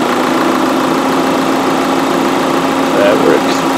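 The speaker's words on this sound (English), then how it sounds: "You hear the engine drop down some, so that's what you want to hear." Car engine idling loudly and steadily while the battery is under a load test, a continuous close mechanical hum with a slight dip in pitch, under a voice.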